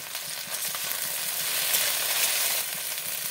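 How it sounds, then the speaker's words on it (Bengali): Okra frying in mustard oil in a pan gives a steady, fairly quiet hiss and sizzle with faint bubbling crackles throughout, heard alone without talk. "ভেন্ডিটাকে আমাকে লাল লাল করে ভাজতে হবে"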